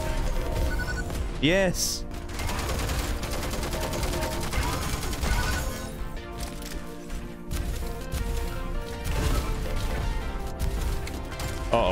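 Constant gunfire from the free-to-play arena shooter Diabotical fills the fight, rapid shots and impacts layered over game music while a player speaks.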